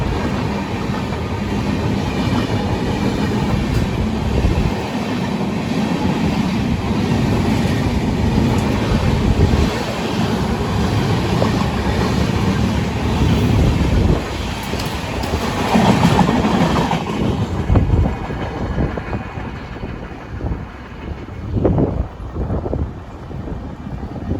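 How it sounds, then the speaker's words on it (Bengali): The SMBT Howrah Superfast Express pulls away on its Kolkata to Puri run, a steady rumble and rhythmic clickety-clack of wheels over rail joints with wind buffeting, easing and thinning toward the end. "আমাদের ট্রেনে ছেড়ে দিয়েছে।"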